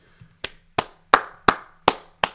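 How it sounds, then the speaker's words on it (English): Hands clap six times alone in a quiet room, each one sharp, close and loud, with the gaps between claps slightly uneven. "I gotta clap it up"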